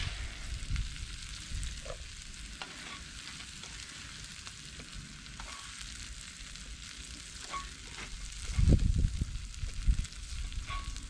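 Onions sizzle and fry in a Petromax FT3 cast-iron pot, a constant crackling hiss broken by occasional stirring scrapes and a louder flare near the end.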